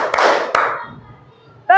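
A classroom of children claps in unison on a teacher's count, one loud clap burst opening, another near the middle, then fading room noise and a spoken voice at the end.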